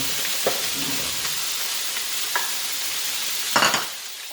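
Diced onion with sliced carrot, celery and green capsicum stirred in a pan, giving a steady close hiss of frying broken by a few scraping clatters and a louder sizzling burst near the end; no talking.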